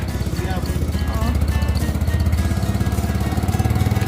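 A motorized rickshaw (becak motor) engine chugs steadily up close on Penyengat Island, a continuous rhythmic putter running throughout.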